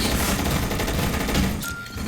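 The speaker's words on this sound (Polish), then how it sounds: "Drugi strzał." Dense rapid gunfire in the Roblox video game, a continuous rattling burst of shots that fills the whole moment and eases slightly near the end, with no talking over it.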